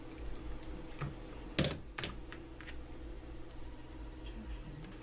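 Two quick, sharp snips of scissors cutting waxed stitching thread on leather close by, over a low background hum with a few faint clicks.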